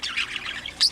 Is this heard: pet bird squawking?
yes